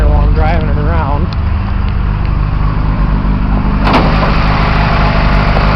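A car engine fitted with a spot muffler and a regular air box runs with a steady, close, low rumble, with a brief wavering whine near the start and a short sharp noise partway through.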